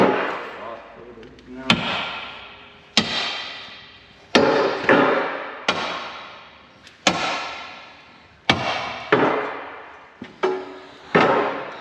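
Steel attachment on a John Deere 350C track loader being hammered, about a dozen sharp metallic blows at a slow uneven pace, each ringing out and fading before the next, loud and close.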